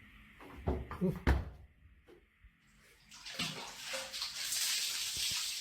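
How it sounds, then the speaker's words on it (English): Water sloshes and splashes in a tub, a few close bursts early on, then a steadier running, splashing wash that continues to the end. "What sounds like someone splashing water in the bath amidst the darkness can be heard."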